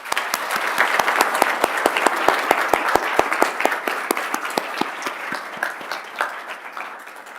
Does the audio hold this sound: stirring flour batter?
no